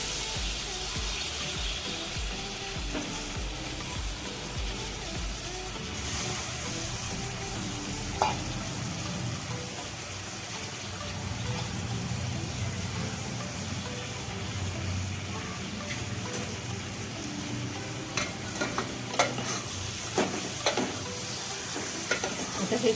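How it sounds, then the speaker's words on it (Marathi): Washed chicken pieces and onions fry in a pan for a spicy Maharashtrian chicken curry, sizzling steadily up close while a spoon scrapes and stirs in repeated strokes, louder clatters near the end, and no voices. "आता हे चांगलं याच्यामध्ये चांगलं परतून घ्यायचं हा कांद्यामध्ये या चिकन."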